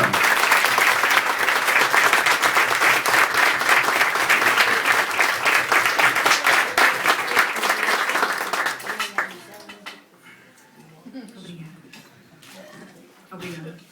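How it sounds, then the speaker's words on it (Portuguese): A Portuguese-speaking audience at a Roberto Leal event at Dom Henrique in Montreal gives loud, sustained applause that fills the room for about nine seconds, then dies away into quiet voices and murmuring. "Então nós temos que aplaudir a Cátia e a Suzy por este momento de emoção."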